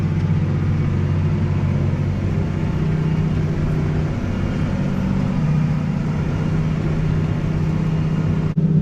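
New Holland T7.260 tractor driving over clay soil while drilling, a steady loud low engine drone and cab rumble heard from inside, continuous and unbroken.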